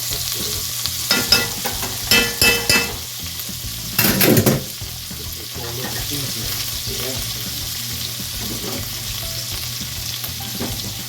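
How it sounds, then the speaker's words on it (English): Turkey sizzles loudly in sauce with added fat for a Haitian-style smothered turkey, a steady close frying hiss with a few utensil clatters and stirs early on. "So we're gonna lay it in the sauce. I'm gonna take a little bit of that. I'm gonna add a little bit more fat"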